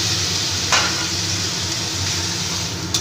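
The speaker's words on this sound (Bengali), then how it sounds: "এবার ভালো করে আর একটু কষিয়ে নেব।" Tangra fish sizzles in a pan with spices and potato and eggplant as the mixture is stirred, a steady loud frying hiss with one sharp scrape of the spatula near the start and another at the end.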